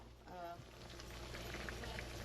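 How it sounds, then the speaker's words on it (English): Squash pieces fry in hot grease, giving a steady bubbling sizzle that fills the whole stretch at moderate level, close by. "my grease is good and hot, bubbling"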